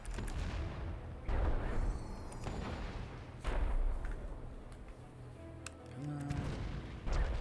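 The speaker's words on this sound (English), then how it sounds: "Fire the cannons." Heavy booming cannon shots fire in bursts in World of Warcraft, deep thuds repeating several times over a rumbling battle background with a voice speaking now and then.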